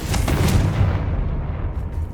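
The Confringo fire spell from Hogwarts Legacy lands as a loud, deep, rumbling blast. A dense boom holds near and heavy, then trails off into a low roar.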